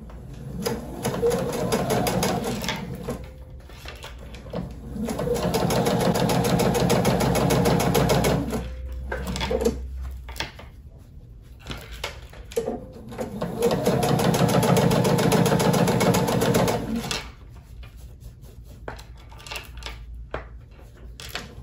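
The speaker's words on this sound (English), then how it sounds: "Now I'm going to fold this to the side and sew the binding down right along this inner folded edge." Sewing machine stitching binding down along a folded edge of a quilted clutch wallet, running steadily in two long bursts with short pauses between them, close and clear.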